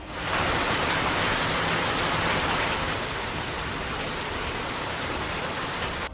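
Heavy rain pours down in a dense, continuous roar, loud and unbroken, with no voices over it.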